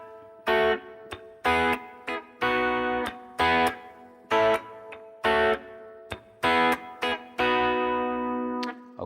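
A clean electric guitar plays a rhythmic riff from a song: short choppy chords and stabs separated by brief gaps, fairly loud and close, with no voices.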